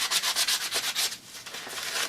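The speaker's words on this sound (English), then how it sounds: "I'm just sanding the tips mainly." Sandpaper rubbed over the tips of a handmade wooden slingshot, a close, steady run of rasping back-and-forth strokes in quick rhythm, alone.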